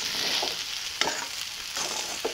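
Sabudana khichdi with peanuts and potato is stirred and sautéed in a pan, a close, steady sizzle with soft scraping strokes of a spatula coming and going.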